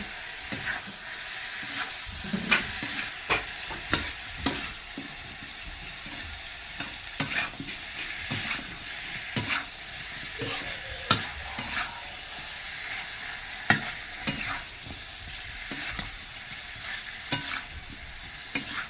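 Chicken masala frying in a pan while being stirred, a continuous bright sizzle broken by frequent spatula scrapes and knocks, close and steady across the whole stretch with no speech.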